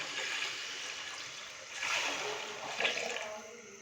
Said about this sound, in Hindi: अभी मैं इसके अंदर डालूंगा पानी।